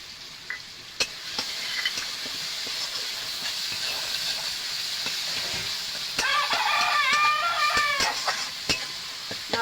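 Ginger paste stir-fries in a pan for ghugni, giving a steady, close sizzle broken by sharp scrapes and clinks of a spatula, with a louder burst of frying toward the end.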